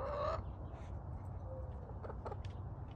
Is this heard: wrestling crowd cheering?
no